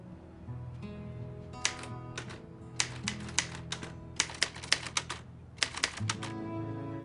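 Hard, forceful typing on a typewriter from the film Finding Forrester, with clusters of sharp, loud key strikes in uneven bursts over a low background tone.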